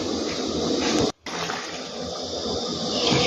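Water poured into a stainless steel pot of braised eggs and pork, a continuous gushing splash with one brief break, close and fairly loud.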